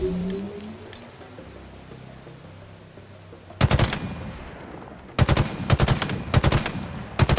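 Battle rifle in Halo Infinite firing sharp bursts, first a single cluster and then several rapid volleys in quick succession, loud and near, following a quieter stretch of ambient game noise.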